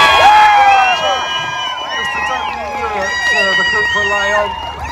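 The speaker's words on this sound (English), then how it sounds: "this is going to be a big cheer." A crowd at a British motor race cheers and whoops loudly for a podium finish, with excited shouts and high voices overlapping, dipping slightly midway before swelling again.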